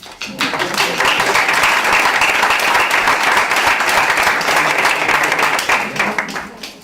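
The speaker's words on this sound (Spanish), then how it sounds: "Vamos a aplaudir" Applause from the audience at a university media congress closing a journalism panel, a dense, steady wash of many hands clapping for about six seconds, then tapering.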